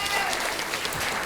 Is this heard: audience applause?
yes